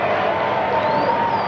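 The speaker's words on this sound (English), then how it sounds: "Give them a round of applause." Applause and cheering from a studio audience welcoming two Notts County cricket players, Andy Afford and Andy Pick, a steady dense wash of clapping and crowd noise throughout the short burst.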